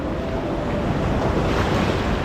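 Steady ocean surf washes onto the sand at My Khe Beach in Da Nang, Vietnam, a continuous broadband roar of breaking waves mixed with wind buffeting the microphone, with no voices.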